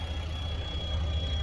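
A van engine idles steadily with its air-conditioning system running, a constant low rumble and hum with no talk.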